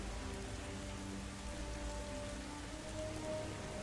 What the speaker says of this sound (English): You can really hear the rain.